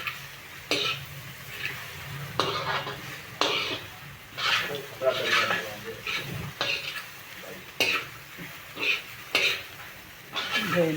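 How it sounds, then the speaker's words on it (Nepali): Instant noodles (chow mein) being stir-fried in a pan, with soft sizzling and intermittent scraping and stirring strokes that come in irregular bursts, near and moderately loud. "त्यसपछि मैले सबै चाउचाउ राखेँ। अब यसलाई मजाले चलाउँछु।"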